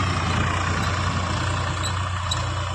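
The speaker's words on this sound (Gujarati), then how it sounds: "ટ્રેક્ટર જો જાય" Tractor engine running steadily in a cotton field, a continuous low diesel drone with a broad rumble that holds at even loudness throughout, close by, with no voices.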